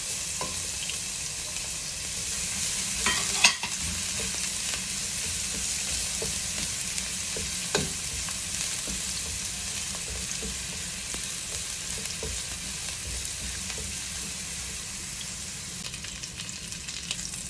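Garlic sautéing in a hot pan after ginger, the base for a fish miso sinigang, gives a steady close sizzle throughout, with a few sharp utensil clacks near the start and middle and no talking.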